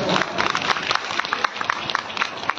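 An audience at a devotional gathering in Asansol claps together in dense, continuous applause with many overlapping hand claps throughout.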